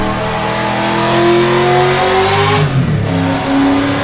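A 4.5-liter 1950s sports car engine in the rFactor2 racing game revs loudly and steadily, climbing in pitch, dipping briefly as if on a gear change, then pulling hard again, with no talk over it.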